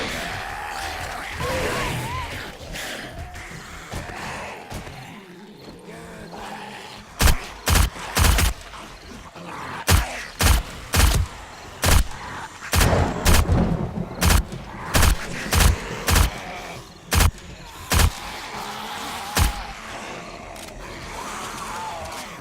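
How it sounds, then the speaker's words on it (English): Explosions in the video game 7 Days to Die, a rapid series of sharp, loud booming blasts in irregular bursts over a low background rumble. "Damn it, exploded."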